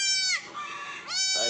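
A newborn goat kid bleats close by: a loud, wavering cry followed shortly by a second one, with no talking over it.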